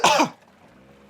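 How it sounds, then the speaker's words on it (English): A single harsh cough bursts out close to the microphone, brief and loud, then fades into a quiet room hum. "Hang on, I gotta cough real quickly."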